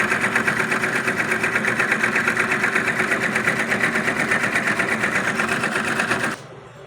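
A Jenra single-head embroidery machine stitching at a steady, rapid mechanical clatter, loud and close, for about six seconds before it stops abruptly and leaves a faint hum.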